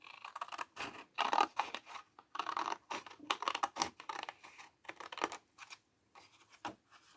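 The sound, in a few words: cutting along a pencil line on paper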